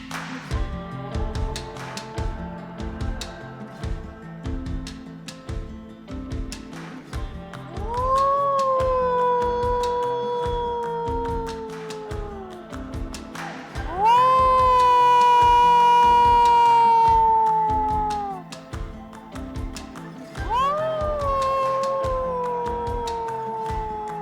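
A hunter's voice imitates wild dogs, letting out three long, wavering, rising-and-falling howls outdoors to call them in. The howls are loud and clear over faint background ticking and rustle.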